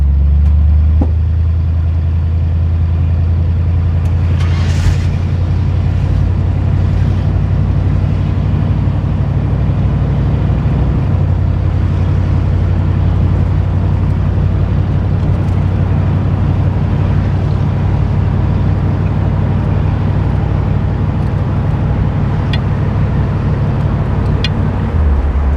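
A 1965 Ford Thunderbird pulls away in drive, its engine giving a steady, low, close rumble that runs throughout with no talking.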